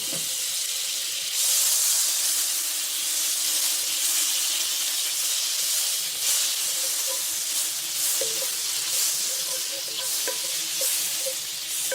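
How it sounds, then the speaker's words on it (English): A couple of tablespoons of butter sizzle loudly and steadily in a hot cast iron skillet, a continuous hissing fry with small crackles and no talking. "we're going to start by putting in a couple of tablespoons of butter here"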